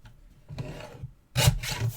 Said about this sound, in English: Let's trim off those ends.